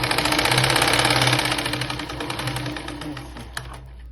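A sewing machine stitches a blouse in a fast, even mechanical rattle. It is close and loud, then slows and fades toward the end.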